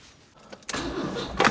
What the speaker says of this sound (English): It cranks over well, but I don't know if it sounds like it's got a ton of compression.